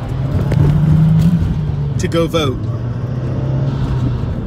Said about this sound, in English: That's the line of cars